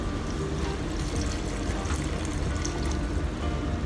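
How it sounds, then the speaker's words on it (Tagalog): Water pouring into a cooking pan of sautéed mustard greens with ground beef, a steady close splashing and trickling that runs unbroken with no talk. "lagyan lang natin ng konting tubig para maluto siya"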